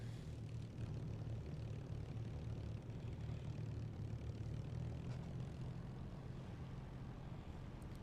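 Supermarine Spitfire propeller fighter engine in the DCS flight simulator, a steady loud droning roar with a low throbbing hum that holds constant, with no voices.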